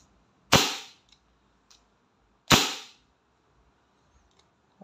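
WG 708 CO2 airsoft revolver fired in double action, two sharp, loud cracks about two seconds apart, each with a short hissing tail, followed by faint mechanical clicks.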